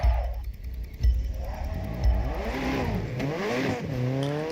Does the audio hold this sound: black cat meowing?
no